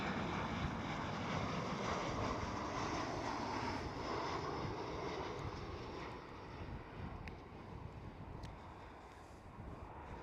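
A Transavia Boeing 737-800 airliner at Schiphol gives a continuous jet engine roar that is strongest at first and then eases off, with a few faint clicks late on.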